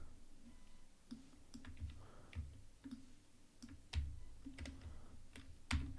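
Rapid computer keyboard typing during a font design work session, with irregular clicks and a few heavier key strikes sounding close and clear over quiet room tone.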